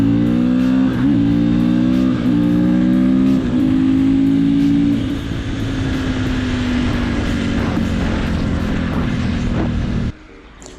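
A Husqvarna 501 supermoto motorcycle's engine drones loudly and close, climbing through several gear-change revs before settling into a steady, fading hum that cuts off abruptly near the end.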